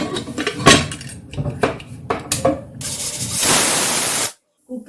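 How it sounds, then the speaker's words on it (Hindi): A pressure cooker on a gas stove, cooking lotus stem curry, lets out a loud, sustained hissing whistle of escaping steam after some clinking of utensils, then cuts off abruptly. "कुकर में सीटी आ गई है"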